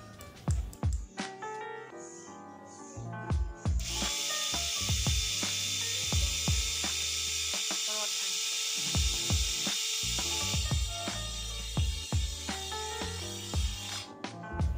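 A TIPTOP Fix cordless screwdriver spinning at about 290 RPM gives a steady, close motor whir for several seconds, with sharp ratcheting clicks and handling taps before it starts and after it stops.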